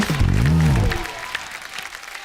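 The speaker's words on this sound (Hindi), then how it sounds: "जोरदार तालियां एक बार संजू सर के लिए" A studio audience on a comedy show bursts into applause for Sanjay Dutt, clapping rising under a shout from the host at the start and then continuing on its own at moderate volume.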